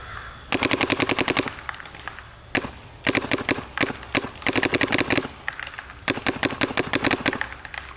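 A Planet Eclipse 180R mech-frame paintball marker firing GI field paint in four rapid strings of sharp, evenly spaced shots, loud and close, separated by brief pauses.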